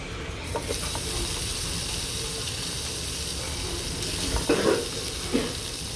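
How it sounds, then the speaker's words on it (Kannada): Paneer fries in butter in a small pan, a soft continuous sizzle and hiss heard close, with a few light clinks and stirring touches near the end. "ಒಂದು ಚಿಕ್ಕ ಬಾಣಲಿಯಲ್ಲಿ ಸ್ವಲ್ಪ ಬಟರ್ ಹಾಕಿ, ಆ ಬಟರಲ್ಲೇ ಸ್ವಲ್ಪ ಇದನ್ನು ಚೆನ್ನಾಗಿ ಫ್ರೈ ಮಾಡ್ಕೊಳ್ಬೇಕು"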